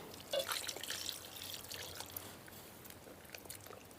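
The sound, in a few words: pouring water into bael fruit pulp for sharbat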